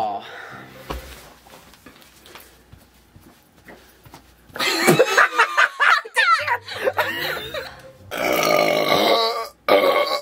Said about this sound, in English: It's like half a burp.